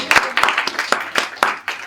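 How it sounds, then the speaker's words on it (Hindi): Audience clapping at a training camp session, a short burst of about eight distinct, fairly loud claps in an uneven rhythm. "तालियां जोर से"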